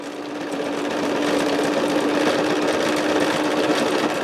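A sewing machine stitches quilt binding in a continuous, fast, even whir with a steady mechanical hum, close up and uninterrupted, ramping up briefly at the start.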